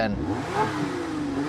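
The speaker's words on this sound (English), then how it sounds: "you can switch the drive mode over into sport, and you can hear the exhaust opens right up" 2024 Lotus Emira supercharged engine with the exhaust opened up in sport mode, a brief close rev that rises in pitch, with a short spoken word over it.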